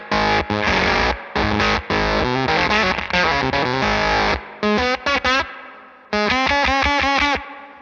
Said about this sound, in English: So as you can hear, it is a spluttery attack.